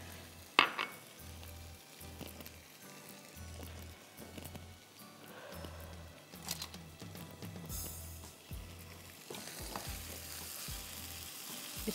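Small pieces of chicken sausage fry in a pan with a steady, hissing sizzle, broken by the repeated scrape and clatter of stirring and a few sharper knocks near the start.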